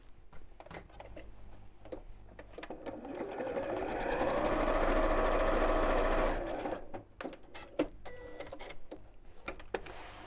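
Domestic sewing machine stitching a straight seam across the corner of a scallop-top fabric gift bag, a steady whirring motor run building and holding for a few seconds, with handling clicks and fabric rustle before and after.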